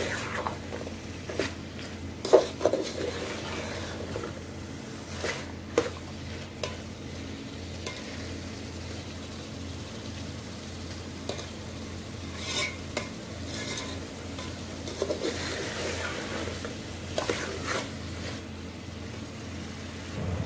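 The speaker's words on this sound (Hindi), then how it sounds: "दस मिनट इन्हें मसाले में अच्छी तरह भुनेंगे।" White chickpeas roast in spices in a pan, giving a steady sizzle with repeated scraping stirs and occasional clinks of the spoon against the pan, close and continuous for about twenty seconds, with no talking.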